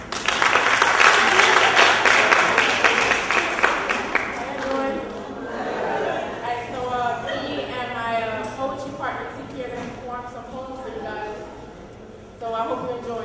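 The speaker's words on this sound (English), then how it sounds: "applause." Audience applause at a poetry event, loud dense clapping at the start that thins into scattered claps and fades under a speaker's voice, then swells briefly again near the end.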